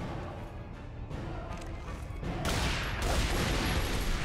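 Sustained enemy gunfire from Tomb Raider Anniversary, a dense, unbroken fusillade of shots that swells louder halfway through and keeps hammering without pause.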